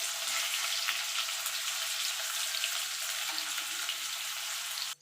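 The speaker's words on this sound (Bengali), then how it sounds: "আলুটাকে আমি লাল লাল করে ভেজে নেব।" Potato pieces frying in hot oil, a loud, dense, continuous sizzle that holds steady and close for several seconds before cutting off abruptly at the end.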